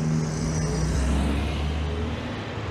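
An MGB classic car on a club road run drives past, its engine a steady, fairly loud drone with low rumble close by, fading slightly toward the end.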